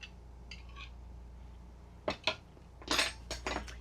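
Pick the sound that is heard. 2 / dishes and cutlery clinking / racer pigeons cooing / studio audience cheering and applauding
dishes and cutlery clinking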